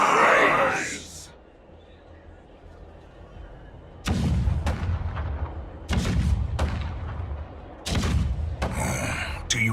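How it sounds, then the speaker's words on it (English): In Honkai: Star Rail, after a quiet, breathy opening, three heavy cannon booms roll out about two seconds apart, each trailing off into a deep rumble. "The rumble of the cannons."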